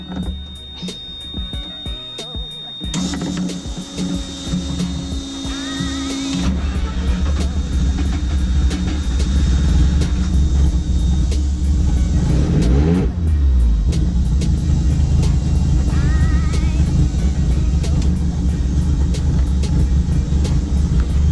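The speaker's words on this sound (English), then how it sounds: "I'm going to turn on the car just one more time for you guys" A Mazda RX-7 FD3S rotary engine cranks and catches, then rises into a loud, near rev before settling to a steady, rumbling idle with a second blip partway through.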